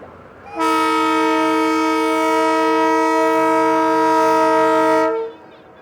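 A single loud, sustained train horn blast, a rich steady chord lasting several seconds before cutting off, with a train rumbling faintly beneath during a trial run on the new Pamban Bridge.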